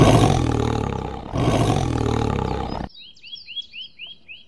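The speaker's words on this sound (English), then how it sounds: "T for tiger." A loud, sustained tiger roar runs in two long swells, then cuts off to faint, high chirping bird calls over near silence.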